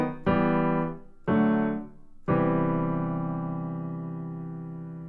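The downward stepping cadence from a character theme in Final Fantasy IX: three sustained chords struck one after another about a second apart, the last ringing out and slowly fading, with no other sound.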